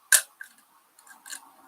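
An Olympus Trap 35 film camera's shutter fires with one sharp, close mechanical click, followed by a few softer clicks and ticks from handling the camera, with no talking.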